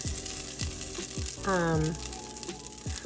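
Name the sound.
bacon grease sizzling in a heated pan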